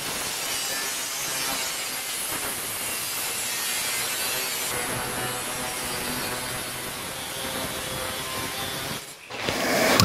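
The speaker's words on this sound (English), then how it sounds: "So now I can just cut it along this line so that we get a good fit." A hand saw cuts along a scribed line on a custom-built car bonnet, a long run of steady rasping strokes that stops abruptly near the end, followed by a brief knock.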